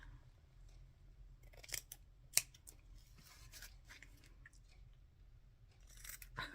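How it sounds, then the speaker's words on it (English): Quiet, crisp snips of scissors cutting, scattered irregularly over a low steady hum, close by. "I picked up the wrong scissors again."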